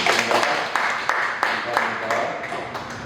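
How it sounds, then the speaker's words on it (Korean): Church congregation at a Sunday service clapping together in a steady, dense wash of applause with sharper individual claps popping through, moderately loud and continuous throughout. "강력의 박수"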